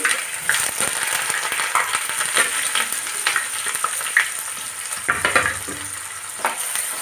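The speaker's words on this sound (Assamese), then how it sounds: "প্ৰথমতে তেলত এয়া পিঁয়াজ দি দিম" Steady oily sizzle of onions frying, with scattered stirring scrapes and clicks throughout, close and fairly loud, no voices.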